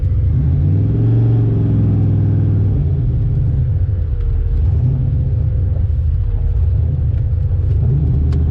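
A car driving with a newly fitted Tremec TKX manual transmission and a 327 engine, its steady loud engine rumble shifting in pitch as it pulls through the gears, with no talking.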